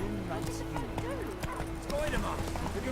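Hooves of the horse Roach clip-clopping at a trot in The Witcher 3, steady and close, mixed with game sounds and overlapping speech.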